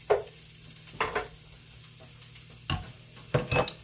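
Chopped onion in a pan sizzles softly and steadily, with several brief scraping stirs close by and no talking.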